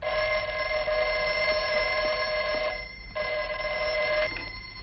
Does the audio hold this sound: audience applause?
no